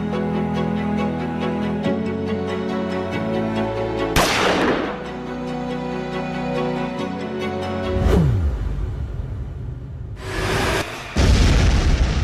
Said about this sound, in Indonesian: Gedung amunisi Belanda meledak.